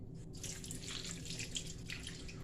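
Hot water pours in a thin, soft trickle for an oxtail sauce in a home kitchen, a faint steady splashing stream with no voices.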